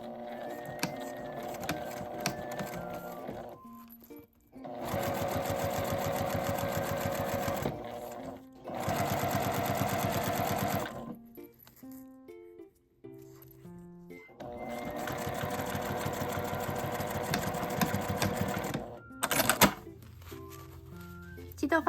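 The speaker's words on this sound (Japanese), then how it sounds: "印から印まで縫います。" A sewing machine stitches a laminated-fabric wire mini pouch in several sustained runs of rapid, even whirring, separated by short pauses with small clicks and handling thumps; close and fairly loud.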